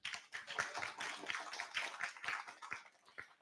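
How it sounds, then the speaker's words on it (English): A conference audience at an international academic ocean law and policy symposium claps to welcome distinguished guests, producing a moderate, fairly sparse run of individual handclaps at a modest distance. "let's welcome our distinguished guests with a round of applause"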